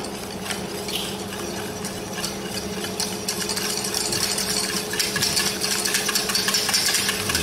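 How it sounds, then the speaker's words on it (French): White chocolate stirred into hot eggless pastry cream in a pan, a steady close scraping and rubbing of utensil against the pot with soft clicks, growing slightly busier over time. "Une fois que ça a bien bouilli, vous y mélangez ici le chocolat blanc."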